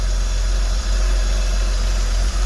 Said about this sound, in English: Okay, so the car's been running for a couple of minutes